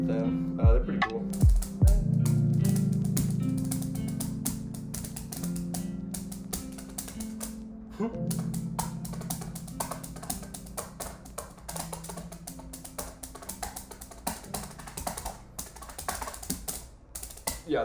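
Light drum sticks tapped on a table in a quiet room, a steady run of close, dry clicks and taps with some low resonant thumps, going on without pause for the whole stretch.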